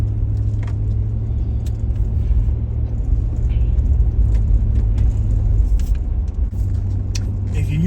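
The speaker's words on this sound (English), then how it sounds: "Let's go for a drive around." A car driving around Macon, Georgia, heard from inside as a loud, steady low engine and road rumble with a faint jingle, running throughout.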